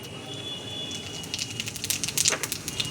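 Whole cumin seeds and bay leaves hit hot oil, building into a soft, crackling sizzle with scattered pops that grow busier toward the end, heard up close and alone.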